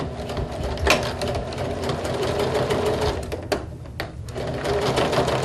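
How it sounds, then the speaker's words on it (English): A sewing machine runs steadily as it back stitches through fabric, a continuous close whir with a few brief shifts in pitch and pace as it reverses and carries on. "We'll back stitch again at the beginning."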